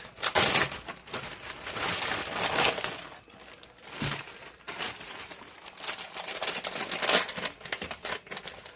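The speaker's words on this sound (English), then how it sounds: "I'm just going to cut some summer sausage" A knife slices through summer sausage in a home kitchen, giving crinkly, crunchy cutting noises in repeated bursts, close and fairly quiet with no talking.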